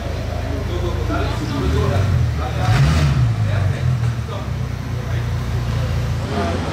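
A Ferrari Purosangue driving in a supercar rally, its engine rumble swelling to a peak as it passes nearby amid road noise, with people talking over it.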